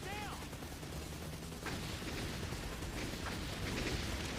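Heavy continuous gunfire while shooting enemies in the arcade shooter Razing Storm, a dense, steady wall of rapid automatic fire mixed with rumbling explosions and mechanical noise, with someone talking faintly beneath it.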